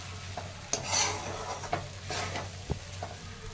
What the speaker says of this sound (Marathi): मुरमुऱ्या ह्या टाकून घेत आहे. आणि छान मिक्स करून घ्यायचं. छान असं परतून घ्यायचं.